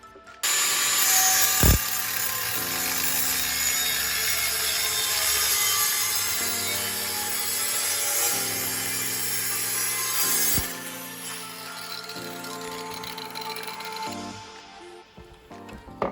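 A power tool cuts a hole through a cleaned-up steel plate for a drift project car, a loud continuous grinding whine that holds steady, shifts in pitch several times and eases off toward the end, with no talking.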